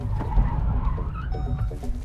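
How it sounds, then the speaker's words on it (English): Hyundai Nios Turbo (2021), a front-wheel-drive car, sliding on a track as the handbrake locks its rear wheels, with a steady loud engine and tire rumble and brief squealing tones throughout. "Get the rear wheels to lock"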